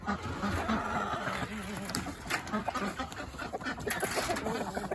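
Backyard chickens, including a hen going in and out of a nesting box, cluck and murmur over steady flock chatter, with occasional sharper calls rising above the continuous fowl noise.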